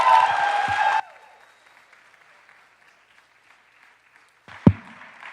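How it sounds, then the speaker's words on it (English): Applause from a spoken word showcase audience, a dense burst of clapping for about a second that cuts off into quiet room tone, followed near the end by a single sharp thump. "One more round of applause for Aditi, everyone."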